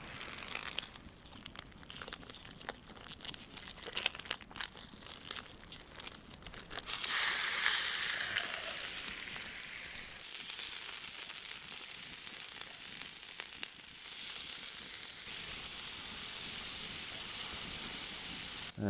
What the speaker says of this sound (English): tonight's culinary delights is moose mince, which is going to be fried up in the frying pan here